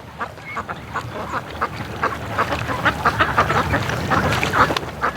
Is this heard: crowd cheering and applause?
no